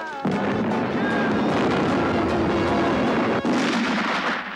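A homemade gunpowder firecracker goes off in a loud, sustained blast, a dense roar filling the whole moment after a sharp onset.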